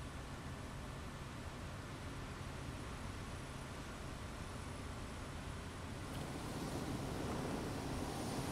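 Steady engine drone of a bush plane flying overhead on a runway pass in a flight simulator, a continuous broadband hum that swells slightly louder toward the end.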